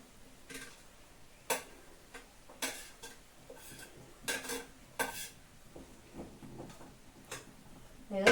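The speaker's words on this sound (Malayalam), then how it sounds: "തേങ്ങ ഇട്ടതിന് ശേഷം നല്ല രീതിയിൽ ഒന്ന് ഇളക്കി കൊടുക്കണം" Grated coconut stirred into a green tomato thoran in a pan, the utensil giving quiet, irregular clicks and taps against the metal with faint sizzling between strokes.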